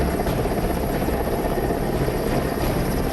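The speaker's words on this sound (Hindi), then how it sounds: "एयरफोर्स के Mi-17 हेलीकॉप्टर के जरिए जब इस शख्स का रेस्क्यू किया गया" An Air Force Mi-17 helicopter hovers during a flood rescue, its rotor roar loud, dense and continuous with a steady fast chop and no voices.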